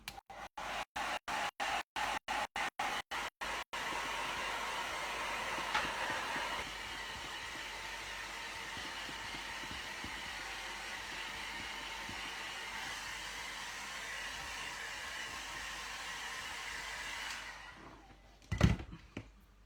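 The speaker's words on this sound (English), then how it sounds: "I'm going to go over to my hairdryer because it's cooler," A hair dryer runs steadily and fairly loud through most of the span, a broad continuous whoosh that follows a burst of rapid clicks at the start and ends with a short knock.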